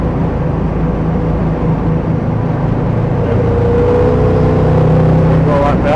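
A 1956 Chevrolet Bel Air two-door hardtop drives down the road with a steady, smooth low engine hum and road noise, heard from inside the car at constant volume.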